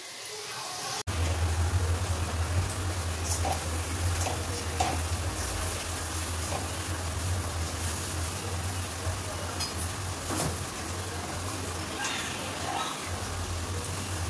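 Continuous sizzling of soybean koftas frying in hot oil, steady and close, with a few light clicks and stirs throughout.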